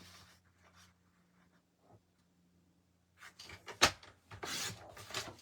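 A piece of white card trimmed on a paper trimmer: quiet handling first, then a few short rasping slides of the blade, with one sharp cut near the middle.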